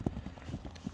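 Horse hooves clip-clop in a quick, steady rhythm of several close, distinct beats over a short moment, from a fast horse among two being shown.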